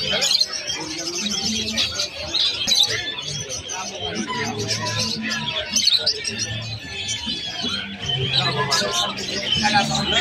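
Snow white zebra finches chirp constantly in a busy pet market in Malabon, with dense high-pitched twittering layered over crowd babble and nearby talk.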